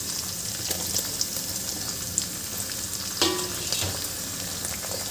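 Tomatoes frying in a pan of cooked peas while making rawa upma, a steady close sizzle with a few clinks and stirring scrapes, loudest near the middle, with no talking.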